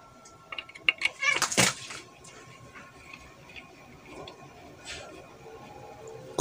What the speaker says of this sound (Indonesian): Kucing saya lagi belajar silat sama saudaranya sendiri